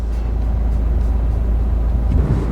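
Constant deep engine and road drone inside a car travelling on the road to Ankara in Turkey, loud and close, steady throughout with a slight swell near the end and no talk.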